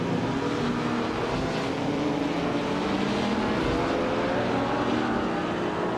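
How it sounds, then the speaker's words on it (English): A 1956 Maserati 450S race car engine in a racing game, a continuous steady droning roar at constant pitch with no talk. "Maya's on pole in her shiny 1956 Maserati 450S."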